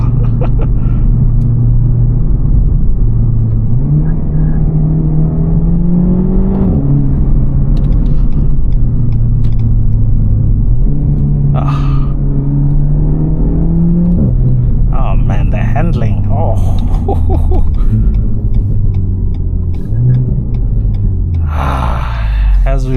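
Engine of a 2024 Renault Megane RS 300 Trophy, a 300 hp hot hatch, hums steadily from the cabin while driving, its pitch rising and falling with gear changes, with someone speaking over it throughout.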